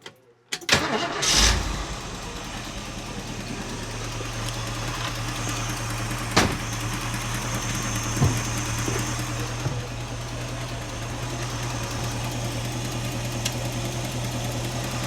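A Mercury Cougar engine with a fault cranks and catches, then settles into a steady low idle with a constant hum and occasional faint clicks.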